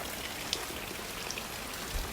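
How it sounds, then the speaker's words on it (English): Rain falling steadily on a surface with scattered distinct drips and drops, a constant soft wash of patter at moderate distance with no voices. "more rain wanted to come down before the drips got fixed"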